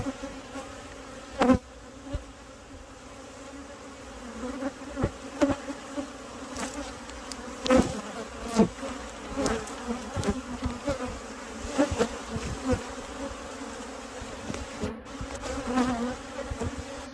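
A swarm of honeybees buzzes continuously during a bee rescue of a roughly 40,000-bee colony, a close, dense hum with louder individual bees flying past and occasional handling knocks.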